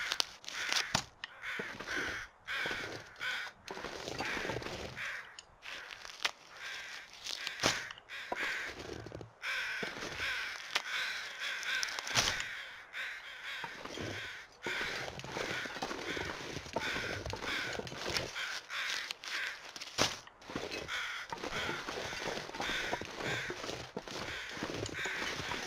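Crows caw repeatedly in the survival video game The Long Dark, harsh calls coming in quick irregular bursts and overlapping one another, fairly loud and close over a steady windy outdoor background.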